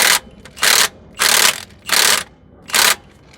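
A ratchet wrench cranks the crankshaft bolt on a 2007–2011 Honda Accord, five loud, close bursts of rapid clicking strokes separated by short pauses, with no talking.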